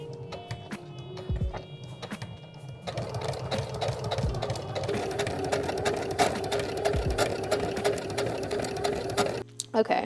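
A sewing machine stitches fabric petals for a cauldron purse in rapid, even mechanical chatter, starting slowly and then running faster and louder for several seconds before stopping, close by, with a voice talking over it.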